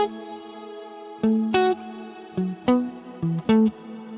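A guitar runs through a Fractal FM3 modeler set to a Plex delay mod wash patch, playing a handful of plucked notes and chords that bloom into shimmering, modulated repeats and a long washy tail between each attack.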